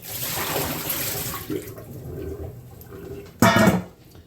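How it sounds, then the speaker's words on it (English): Water splashes and gushes out in a steady broadband pour for about a second and a half, then trickles quietly before a brief louder splash near the end. "you'll just dump out the water it's been sitting in"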